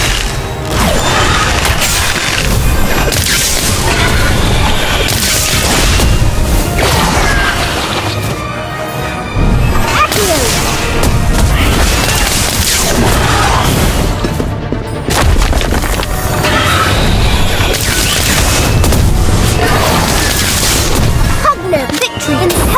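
Incendio fire spell cast repeatedly in Harry Potter: Magic Awakened, loud booming blasts and crashes layered over continuous game music and effects, with a voice calling out spell names throughout.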